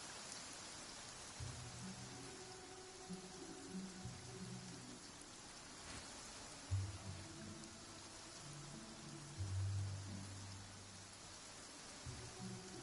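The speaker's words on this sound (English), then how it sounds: "Taking a stroll in the middle of a downpour certainly rouses the spirit." A heavy downpour in Genshin Impact hisses as steady, faint broadband rain, with low soft thuds of rumble now and then underneath.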